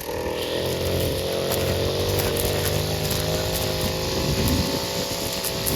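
A gas-powered grass cutter engine runs loud and close, a steady buzzing drone with slight revving throughout, no voices over it.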